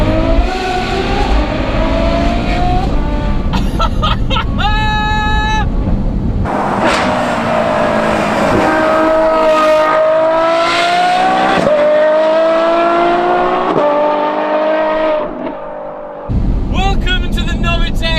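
A Novitec Ferrari F12 N-Largo with near 800 horsepower and a straight-through titanium exhaust revs hard and close. Its howling engine pitch repeatedly climbs and drops, with brief bursts of crackle between the rising sweeps.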